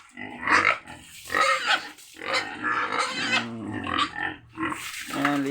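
Pigs on a Negros Occidental farm grunting and squealing while being hosed down for a bath. Several close grunts and squeals come in uneven bursts, with water splashing throughout and someone talking now and then.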